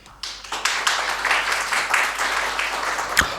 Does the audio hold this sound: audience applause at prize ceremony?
yes